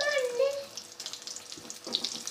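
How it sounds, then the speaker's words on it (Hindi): Samosas frying in oil over a low-medium flame, a steady soft sizzle and crackle running throughout, close and moderately loud, with no talk. "ये देखें जी, बहुत अच्छे तरीके से हम इसको फ्राई कर रहे हैं लो मीडियम फ्लेम पर"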